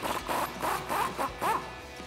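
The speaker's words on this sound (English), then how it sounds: "I'm gonna use a 21 millimeter socket to get this guy off" A 21 mm socket wrench works a nut loose on a RAM 1500 suspension, giving a series of about five rhythmic ratcheting rasps, close and fairly steady, with no talk.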